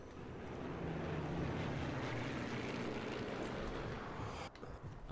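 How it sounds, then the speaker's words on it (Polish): Aircraft in Sniper Elite 3's Pont du Fahs level drone overhead in a loud, continuous engine roar that holds steady before briefly dipping near the end, with no speech. "Może to jakieś samoloty?"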